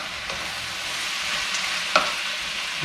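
Ground meat browning in a hot pan with a splash of beef broth for shepherd's pie, a loud, steady sizzle close up with a brief stirring scrape partway through, no talking.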